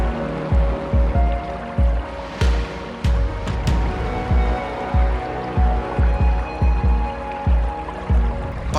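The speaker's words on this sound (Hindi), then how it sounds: "पहाड़ों से उतरता झरने का पानी पत्थरों के बीच अपने रास्ते को तलाशते हुए जाकर भगीरथी में मिल जाता है।" Waterfall water tumbles over stones on its way down from the mountains near Harsil toward the Bhagirathi, a loud, steady rushing broken by regular low thumps throughout, with no talking.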